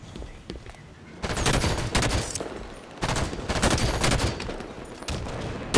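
Rapid automatic gunfire from Halo 5 multiplayer combat, loud bursts of shots in clustered volleys separated by brief lulls, close and dominant with no talking over it.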